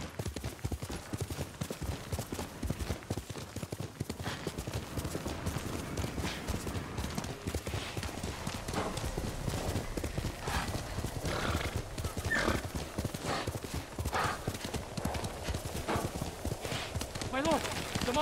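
Horse hooves clip-clopping at a steady trot, with several neighs and whinnies, in the video game Ghost of Tsushima. The hoofbeats run continuously near and loud, mixed with game ambience and voices talking.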